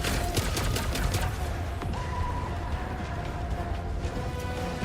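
A gun in the Helldivers 2 video game fires in rapid bursts amid busy game noise, a steady dense clatter with occasional mechanical clicks underneath.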